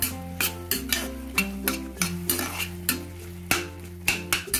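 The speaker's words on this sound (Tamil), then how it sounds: "இப்போ நல்லா தக்காளி ஓரளவுக்கு வதக்கிடுச்சு நல்லா." Tomatoes sautéing in oil in a pan for tomato rice, heard as a soft sizzle broken by repeated sharp scrapes and knocks of a spoon stirring against the pan, close and fairly loud with no talk.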